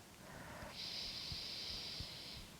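A steady, close inhale through the right nostril during alternate-nostril yoga breathing: a soft airy hiss that swells after a brief lead-in and holds for about two seconds, alone and quiet.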